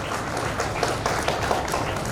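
An audience at an award ceremony breaks into sustained applause, many hands clapping together in a dense, steady roar that holds at the same level throughout.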